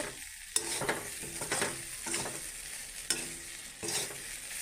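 Soybean curry frying in a pan with a steady close sizzle, broken by several sharp scraping stirs of a spoon at uneven intervals.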